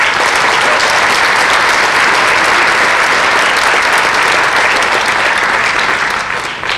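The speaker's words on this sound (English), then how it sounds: "And one more round of applause for our choral director for the sixth grade" Sustained, dense applause from a concert audience at a sixth-grade school choir performance, loud and continuous throughout, easing slightly at the very end.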